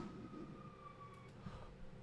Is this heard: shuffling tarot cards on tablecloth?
no